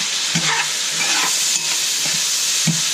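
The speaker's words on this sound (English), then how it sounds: "I want to add some more oil to continue cooking the rest of the steaks and the onions" Steak and onions frying in oil in a pan, a loud steady sizzle with several soft thumps and stirring scrapes spaced through it.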